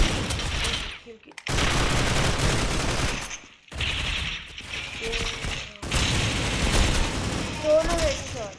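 Rapid bursts of gunfire from the mobile shooter Critical Ops crackle in loud clustered volleys separated by short silences, with a voice talking faintly underneath.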